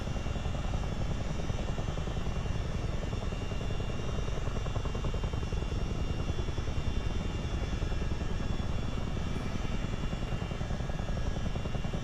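A CH-47D Chinook tandem-rotor helicopter in a flight game lifts off a ramp, its engines and rotors making a loud, constant, dense roar that holds steady throughout with no voices.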